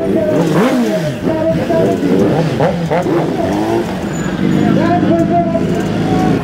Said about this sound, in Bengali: সুপার বাইক ঢুকলে ভাই সাউন্ড তো হবেই।